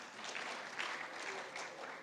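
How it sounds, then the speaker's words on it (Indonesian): Brief, dense audience applause in a university hall at Universitas Trisakti holds a steady wash of clapping for about two seconds, with no voices over it. "tepuk tangan dong yang meriah buat LPS."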